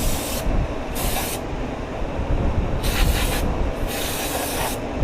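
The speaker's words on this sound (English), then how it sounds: "So, a little brake cleaner." Brake cleaner sprays in repeated pressurized hissing bursts to wash spilled oil off a 2019 Audi A4 B9 during an oil change. The close bursts start and stop several times over a constant background rush.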